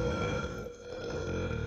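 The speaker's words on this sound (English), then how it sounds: "I'm gonna burp." A loud, drawn-out burp from a young man during a brotherly fast-food taste battle, one continuous guttural rumble lasting nearly two seconds with a slight dip midway.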